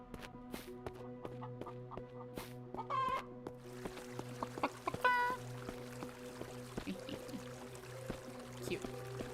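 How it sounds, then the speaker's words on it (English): Chickens cluck in The Necromancer's Tale, with two short rising clucking bursts over a steady looping game background of tonal music and ambience. "I'll probably just take one of these chickens or something."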